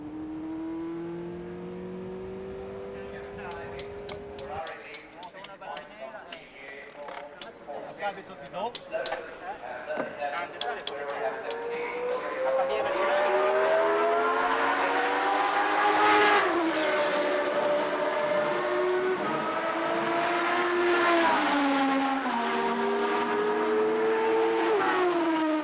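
1980 Formula One race cars at Brands Hatch scream past with rising and falling engine notes, building from a single car to a louder, overlapping pack of revving engines, heard under a commentator's speech.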